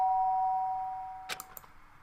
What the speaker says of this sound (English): sound of the doorbell forced its way into my room